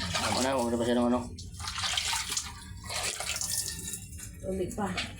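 Water runs steadily from a tap where a pet pig is kept, a continuous close hiss with voices talking over it.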